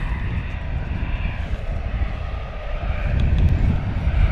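An easyJet Airbus A319 jet taxiing at London Luton Airport, a steady distant engine rumble and whine that swells slightly toward the end, heard outdoors without talk.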